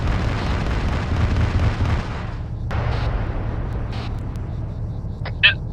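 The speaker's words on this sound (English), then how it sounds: "The explosion didn't make it to the vehicle again." Video game explosion during a training session: a dense, sustained low rumbling blast fills the first couple of seconds, then fades into a steady low drone with a few faint later bursts.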